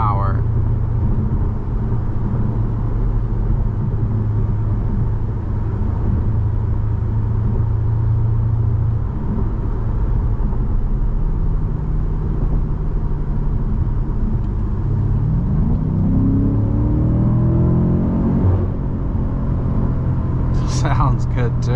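A 2021 BMW M5 Competition sedan engine while driving, heard as a loud, steady low rumble from inside the car, with the pitch climbing noticeably toward the end as the revs build.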